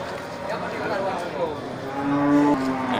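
An Aceh cow moos in a long, low drawn-out call, fairly close, over a murmur of background voices and livestock noise at a cattle sale.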